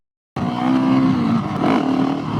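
A Husqvarna 701SM supermoto engine bursts in loud and close after a moment of silence, revving hard with a rising whine that dips briefly at a gear change and climbs again.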